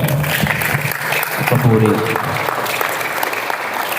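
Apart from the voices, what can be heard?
congregation applauding loudly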